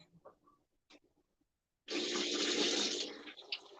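Tap water runs hard into a kitchen sink as ingredients for Filipino tamarind sinigang soup are rinsed, a loud steady gush starting after a few soft handling clicks and lasting to the end.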